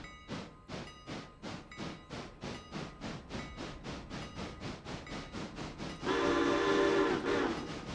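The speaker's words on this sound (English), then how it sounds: "What whistle did Flanagan put on this? That's P6" A steam locomotive in the Railroader video game chuffs in a steady rhythmic series of exhaust beats, then its P6 whistle sounds loud and sustained for about a second before the chuffing returns.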